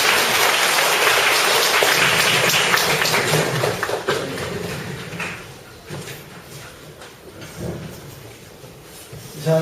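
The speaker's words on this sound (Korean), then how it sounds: "박수 한번 칠까요?" A church congregation bursts into loud clapping that gradually thins out and fades over several seconds, with scattered claps continuing near the end.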